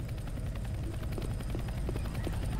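In the video game Left 4 Dead 2, a helicopter hovers nearby with a loud, steady rotor thump, a rapid pulsing beat over a constant rumbling engine drone that fills the scene without pause.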